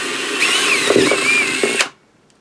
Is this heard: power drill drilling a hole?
yes